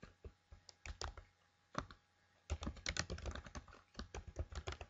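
Someone types on a computer keyboard in quick, uneven bursts of close, quiet key clicks, with a short pause before a faster flurry and no speech.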